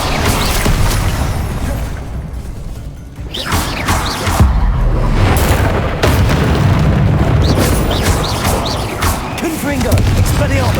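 Spell explosions in the Hogwarts Legacy video game, loud booming blasts and crashing bursts that repeat across a dense, continuous battle mix with a voice over it.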